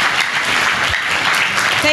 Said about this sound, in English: Clap for Jesus, the winner man.